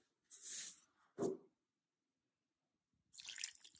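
Water poured into oats chilla batter of tomato, onion, ginger paste, green chilli, curd and semolina makes faint, short gurgling pours separated by silence, with a longer pour near the end.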